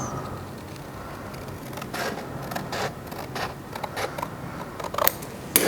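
A piece being cut off a Sunbeam Rapier body panel during fabrication, heard as a series of crisp, irregular cutting snaps that grow sharper and louder toward the end.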